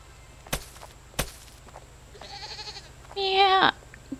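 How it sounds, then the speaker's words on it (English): In the farming game Garden Paws, a goat gives a few short electronic bleats, the last loud and sustained, after two sharp clicks over a faint ambient hum. "goat."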